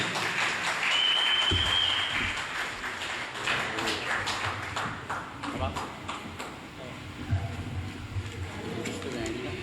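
Crowd at a regional political party rally gives scattered applause, with individual claps and taps among voices and a brief whistle-like tone, all fairly distant and uneven.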